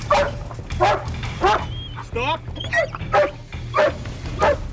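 A police K9 dog barks and yelps repeatedly in short bursts during an arrest, its calls coming at a steady rhythm over a low background hum while an officer briefly speaks.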